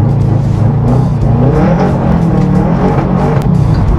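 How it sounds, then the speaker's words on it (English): A car is driven hard on a track at a tire launch event for the General Tire AltiMAX 365 AW, its engine droning loudly and continuously from inside the cabin while understeering through a corner, with no speech. "You see my car right now is understeering."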